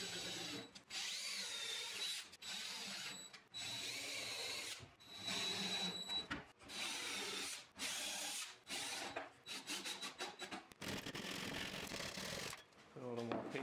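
A power drill drives a screw into a wooden crosscut sled built from scrap wood in a woodshop, with several loud whirring bursts separated by short pauses and talk between them.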